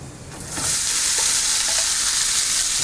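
Cooked basmati rice and grated coconut are stirred in a hot pan for coconut lemon rice, a loud continuous sizzle and scraping swelling after a quieter start, with no voices.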